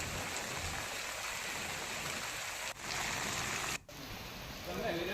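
Steady rain pours down over Upleta in Rajkot district, a dense, even hiss that runs unbroken throughout, with only two sharp momentary dropouts.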